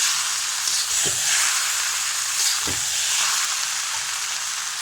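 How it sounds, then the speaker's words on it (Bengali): Boiled noodles and pasta hiss and sizzle steadily in a hot frying pan, with two brief scraping stirs rising out of the constant frying noise. "এখন দিয়ে দেবো আগে থেকে সিদ্ধ করে নেওয়া নুডলস আর পাস্তা। ভালোভাবে মিশিয়ে নেব।"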